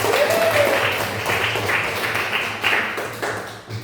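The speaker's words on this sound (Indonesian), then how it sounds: "Bapak Guru kasih aplaus saja meriah untuk kita semua" Lively applause from students in a classroom, a short burst of claps and taps at close range that tapers off after a few seconds.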